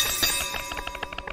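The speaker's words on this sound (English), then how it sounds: "Use warning bell." A warning bell rung in the video game 1428: Shadows Over Silesia, giving a rapid series of bright, metallic dings that repeat steadily for over a second, moderately loud with no talk.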